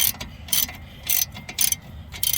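A ratchet wrench loosens front brake caliper bolts on a vehicle, giving bursts of sharp, close clicking in several quick strokes with short pauses between them.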